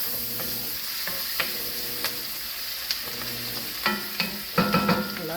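Pot roast meat browns in a hot pan, giving a steady close sizzle with scattered stirring scrapes and small pops that grow busier toward the end, and no voices.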